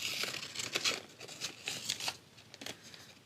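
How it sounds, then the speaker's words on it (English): Paper being cut with paper scissors in a series of quick crisp snips and rustles, close by, with no talking. "we're going to roughly cut these out outside the drawn line. Make sure you use your paper scissors."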